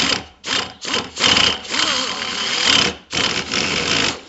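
A motor slowly grinds through hard material during a cable-to-hydro installation. It makes a close, rough, ratcheting mechanical sound in short repeated bursts separated by brief pauses.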